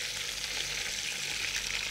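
Meat coated in spices fries in a pot, giving a steady, fairly quiet sizzle with faint stirring, with no talking over it.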